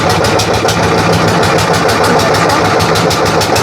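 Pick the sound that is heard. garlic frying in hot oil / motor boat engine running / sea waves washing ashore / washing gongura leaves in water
motor boat engine running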